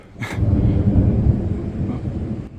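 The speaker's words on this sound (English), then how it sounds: "The thunder was starting to clap and it's starting to rain a little bit." A deep roll of thunder rumbles for a couple of seconds, loud and low, fading out at the end, as light rain begins to fall.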